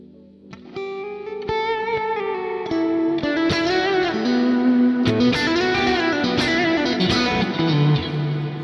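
A distorted electric guitar plays sustained, saturated chords and notes with heavy effects, loud and continuous with some reverb tail.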